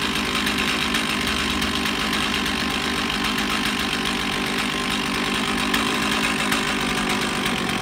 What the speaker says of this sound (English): Once it fires, your brake back on and give it a chance to warm up.